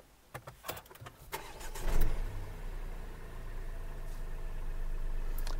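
A Tata Altroz hatchback engine cranks and catches after a few clicks and thumps, then settles into a steady idle heard from inside the car, with no talk.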